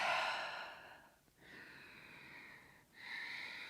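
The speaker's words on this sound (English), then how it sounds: "Just breathe." Slow, audible breaths during a yoga flow: a long airy exhale, a pause, then another drawn breath, close and soft with no voices.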